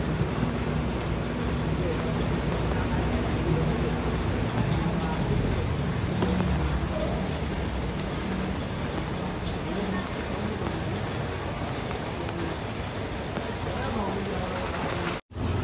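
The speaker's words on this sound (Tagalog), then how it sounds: "Kasi sobrang ano na po yung ulan, lumakas." Heavy rain pours steadily at a demolition site beside a four-storey barangay hall built on a sidewalk, a dense continuous wash of noise lasting throughout with faint scattered background sounds.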